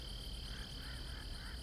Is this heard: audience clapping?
no